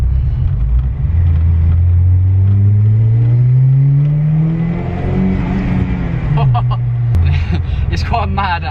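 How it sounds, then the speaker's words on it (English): A Series One Ford Escort RS Turbo makes a second-gear pull in low boost mode, its engine rising in a loud, close, steady climb before a brief drop and the next gear's rumble. "So if we just get a quick second gear pull in low boost mode."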